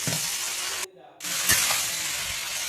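Shrimp sizzling and frying in a pan, a steady loud hiss with a short pause where the sizzle drops out before resuming, plus a light stir or scrape.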